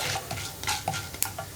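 Urad dal and mustard seeds frying in oil over a low flame, with a spoon stirring in short scraping strokes and light metallic clinks above a soft, close sizzle.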